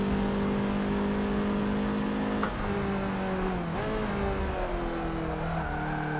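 A car laps a racetrack in Forza 7, heard from a first-person driving view: a loud, close engine drones and shifts pitch through gear changes, with a brief dip and tire noise midway.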